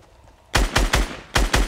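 Gunfire from a SCAR assault rifle in the video game Fortnite: five loud, sharp shots in two quick bursts, three then two, close and alone with no talk.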